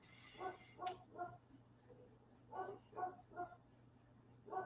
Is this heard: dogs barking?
yes